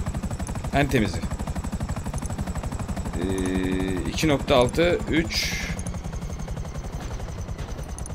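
A helicopter's rapid rotor chop in Grand Theft Auto V pulses steadily under a man's speech, with bursts of game gunfire and electronic beeps mixed in.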